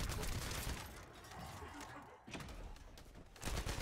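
Gunfire in The First Descendant, a sci-fi shooter video game: dense, loud bursts of shots with muffled impacts, easing briefly before a heavy volley returns near the end, with faint game sounds beneath.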